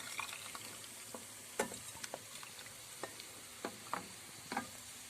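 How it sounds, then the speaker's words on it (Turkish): Yogurt mixture being stirred into a pot of bulgur soup, heard as quiet, scattered spoon scrapes and soft clinks against the pot over a low background hiss, with no voices. "güzel bir şekilde karıştırdım"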